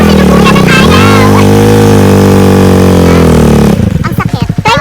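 A motorcycle engine drones loud and steady on a rainy road, its pitch rising and falling, before a person begins talking over the fading motor.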